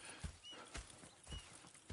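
Horse hooves clip-clop in a brief patter of a few dull, soft, irregular thuds in a video game's town setting, fairly quiet and heard alone without talk.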